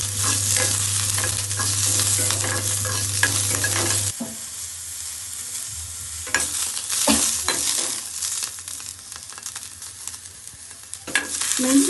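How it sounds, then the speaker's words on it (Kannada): Green chillies frying in a little oil over medium flame in a pan: a loud, continuous sizzle runs throughout, with stirring scrapes rising above it now and then and no talk. "ಮೊದಲು ಮೆಣಸಿನಕಾಯಿನ ಫ್ರೈ ಮಾಡ್ಕೊಳ್ಳೋಣ. ಸ್ವಲ್ಪ ಎಣ್ಣೆ ಹಾಕಿ ಫ್ರೈ ಮಾಡೋಣ."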